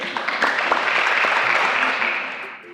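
Studio audience applauding a quiz show contestant who has just named the churches of Lalibela, a steady dense burst of clapping lasting nearly three seconds, close and full, with no talk over it.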